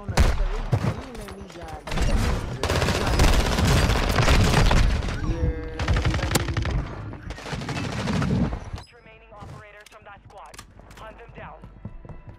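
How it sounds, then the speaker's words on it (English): Dense, loud gunfire rattles in a shooter video game, rapid automatic bursts overlapping for about nine seconds before fading to scattered shots, with a voice talking throughout. "I'm getting shot in the back, bro"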